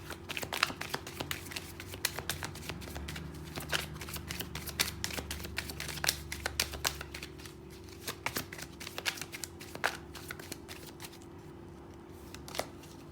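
Tarot cards are shuffled and laid out close by, a dense run of rapid crisp riffles and flicks with sharp snaps of individual cards, steady and busy over a faint background hum.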